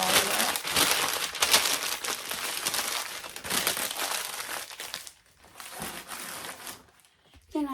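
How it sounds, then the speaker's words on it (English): Sheets of paper crumpled into a ball by hand while assembling a gift basket, a dense continuous crinkling close to the microphone that pauses briefly near the end. "I'm gonna take another piece of this and ball it up."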